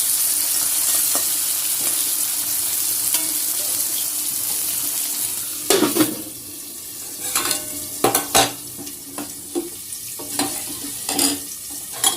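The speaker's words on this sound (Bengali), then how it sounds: "পটলটা ভাজা বসিয়ে দিয়েছি" Pointed gourd (potol) frying in oil in a wok: a steady close sizzle runs throughout, with sharp clinks and stirring knocks in the second half.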